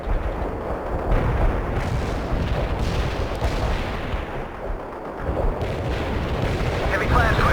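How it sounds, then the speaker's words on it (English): Artillery barrage in the video game World in Conflict, a dense, continuous rumble of booming impacts and explosions, loud and close, with voices speaking over the battle. "Artillery strike in the Motherland. Confirmed artillery."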